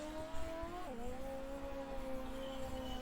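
Tires skid and engine drones steadily as a car drifts in the racing video game Phantom Racing, a sustained tonal engine note dipping in pitch partway through, then holding continuous and fairly loud with no talking.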